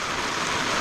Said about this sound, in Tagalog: ang lakas-lakas na lang ulan